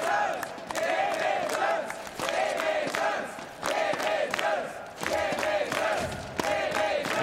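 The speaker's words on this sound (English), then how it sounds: "Certainly something for the crowd to cheer about" A large crowd at a Counter-Strike esports match roars and chants in loud, sustained waves of rhythmic cheering, filling the arena without commentary.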